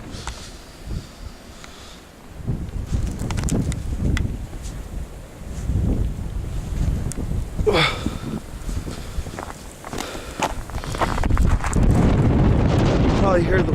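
Strong wind blowing through an Oklahoma blizzard in 2011, a steady broadband roar that swells and gusts louder toward the end, with faint rustling and scattered soft thumps underneath.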